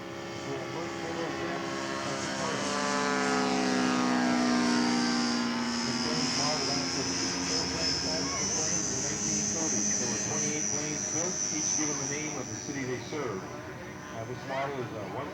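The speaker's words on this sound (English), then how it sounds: "Jerry Holcomb's taxiing out for his second flight Friday afternoon." A 1/12-scale Yak 18 model airplane with an electric motor taxis out at an outdoor scale aircraft show, its propeller buzz rising and shifting pitch steadily while someone talks over it.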